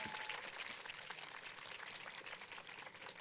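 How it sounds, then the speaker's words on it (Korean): Audience at a film festival tribute event applauding in a hall, a steady wash of many hands clapping, faint and somewhat distant, with no voices over it. "큰 박수 부탁드립니다"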